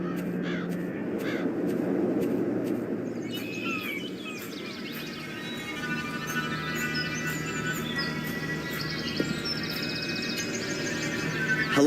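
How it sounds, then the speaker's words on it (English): A raven caws harshly several times in the Black Mirror 2 video game, the calls prominent over a quiet ambient backdrop. "I saw a raven there a short while ago. We don't like him. He's always screeching and flapping"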